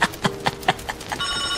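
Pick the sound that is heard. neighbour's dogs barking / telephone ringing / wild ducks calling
telephone ringing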